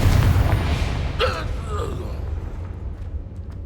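Confringo blasting spell in the game Hogwarts Legacy, a loud rumbling explosion at the start that decays into a fading boom, with a short voice cry in the middle.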